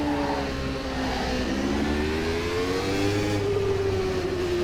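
A racing car engine revs steadily and rises in pitch in the rFactor 2 sim during a multi-class track day, sounding loud and continuous throughout with no talk.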